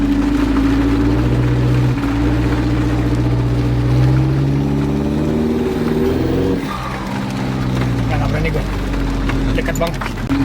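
Car fitted with a Turbo Flex MIVEC turbo pulling hard on a test drive, a loud, steady engine drone with rising and shifting pitch that dips briefly midway, while people talk over it.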